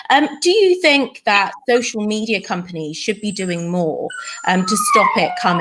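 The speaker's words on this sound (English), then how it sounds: "that's my dog behind me who's whining." A dog whines and whimpers in the background of a room, thin high cries rising near the end beneath someone speaking close to the microphone.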